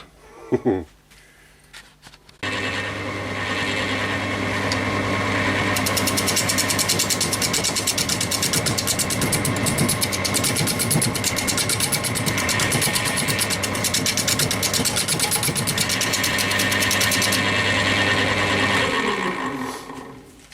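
Wood lathe spinning a roughly shaped yew bowl blank, a steady motor whine starting after a short pause and running for most of the stretch, while a tool takes very light cuts and a person talks over it.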